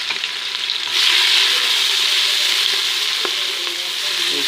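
Onions and cinnamon frying in a pan for a green pea pulao, a steady close sizzle that grows louder after the first second and continues unbroken, with faint occasional stirring.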